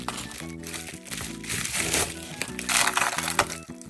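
Plastic wrap is crinkled and peeled off a packaged figure bought secondhand, giving crisp, dense crackling that swells and fades in quick bursts close to the microphone, alone without speech.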